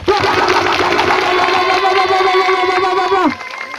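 A crowd at a Gasdev visit in Komine, Latibonite, lets out loud, sustained cheering and shouting with a held, ringing tone, which cuts off abruptly near the end.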